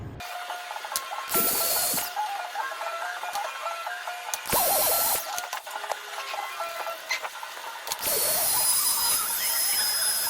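Compressed air spray blowing dust out of an Advan Workplus laptop in short hissing bursts, with clicking and rattling of handling between blasts, close and fairly quiet.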